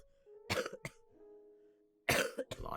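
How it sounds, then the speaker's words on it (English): A person coughs twice in quick succession, a faint tonal hum lingers, then a harder burst of coughing follows, close and fairly loud. "So I am coughing a lot."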